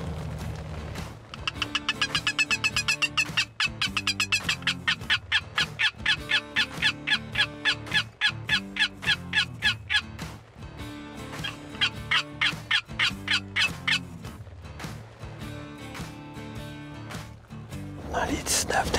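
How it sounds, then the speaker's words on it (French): A wild turkey gobbles repeatedly in rapid, rattling bursts, loud and fairly close, at a woodland edge, with the calls continuing steadily over background noise. "Dans les 19 dindons sont sur le bord du boisé de l'autre côté."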